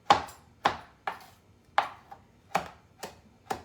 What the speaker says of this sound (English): running your knife through it to mince it.